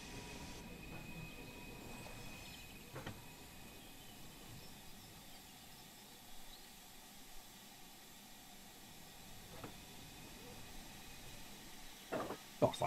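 A Fowler 4F steam locomotive shunting on the Peak Forest Railway in Train Sim World 3, with a low rumble of rail movement, faint clanks and a few sharp coupling knocks, the loudest near the end.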